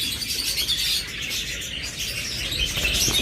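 Cockatiels and other pet birds in an aviary, chirping and tweeting together in a continuous busy chatter, with occasional wing flutters, close and fairly loud.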